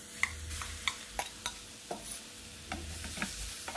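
Grated carrot and tofu are stirred in a frying pan, giving a run of brief clatters and scrapes from the utensil at a steady, unhurried pace over a soft sizzle. There is no talk.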